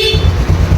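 A brief, loud aftermarket motorcycle horn blast with a harsh, buzzy tone, heard up close alongside a rumbling engine.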